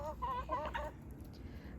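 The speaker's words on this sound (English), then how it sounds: "You'll also notice Talaria, which is the hen on your right, the black one right here, Talaria." Hens in a backyard flock cluck in a quick series of close, short calls, then fall quiet over a low steady background hum.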